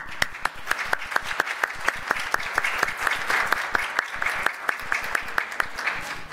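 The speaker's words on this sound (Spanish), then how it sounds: "Un gran aplauso" Applause from an audience at a university regional speech-therapy conference: steady, moderately loud clapping crowd with distinct sharp individual claps standing out throughout.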